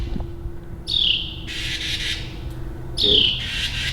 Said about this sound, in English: sorry, we have a bird problem in here now